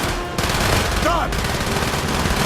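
Gunfire rattles loudly in the Call of Duty: Black Ops story mode, dense bursts of shots with an abrupt drop and resumption, mixed with game noise and voices in the background.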